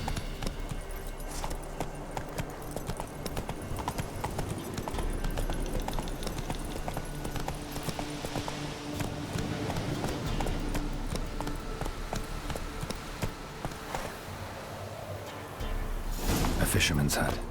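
Roach the horse trotting in The Witcher 3, a steady clip-clop of hooves that runs the whole way under ambient game sound, with a voice talking over it.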